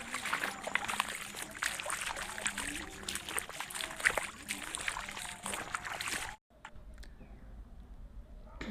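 Footsteps slosh and splash through standing rainwater on a muddy path to a farm field, a steady run of wet trickling steps that stops abruptly, leaving near silence.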